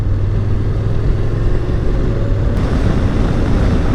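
A 2021 Honda NC750X DCT motorcycle rides along twisty roads, giving a steady, loud roar of engine and wind rush that stays constant with no talking.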